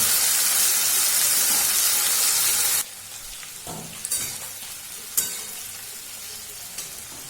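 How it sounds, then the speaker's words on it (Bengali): Long beans (barbati) frying in a pan, a loud, steady sizzle that suddenly drops to a quieter crackle with occasional stirring scrapes and pops. "আমি বরবটিগুলোকে একদম ভালোভাবে কিন্তু ভেজে নেব।"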